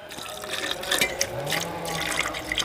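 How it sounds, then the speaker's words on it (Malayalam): Water poured into a pot of beef with oil, a continuous liquid splash and rising fill tone over a couple of seconds, with faint background talk. "ഇതിൽ കുറച്ച് വെള്ളം വിതി കൊടുക്കാം"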